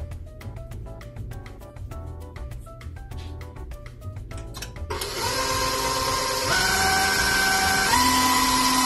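An electric mixer beats Greek Easter cookie dough (Smyrna-style koulourakia). Quieter tonal sounds come first, then the motor kicks in about halfway through as a loud, steady, close whir that runs to the end.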